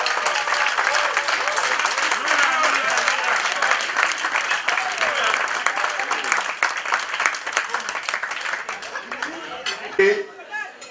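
An audience at the official launch of the Bana Brazza association gives a loud, sustained round of applause, thick clapping mixed with cheers and chatter that thins out toward the end.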